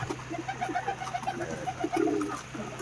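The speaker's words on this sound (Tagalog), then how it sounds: "Yan yung mga kalapati natin." Pigeons coo steadily and close by in a loft or trap area, soft repeated calls with a louder burst near the end, with no talk over them.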